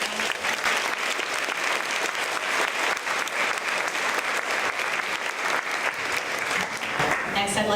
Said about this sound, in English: Let's give one more big round of applause for all of our